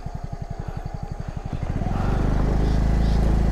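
Motorcycle engine labouring on a rough, slippery hill trail, with a steady rapid chugging pulse for the first half that swells into a loud, continuous revving roar as the bike pushes on.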